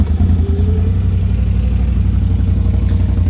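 A 2021 Can-Am Outlander 850 XMR ATV engine running close by, a loud, steady low rumble with a faint clattering texture and no break.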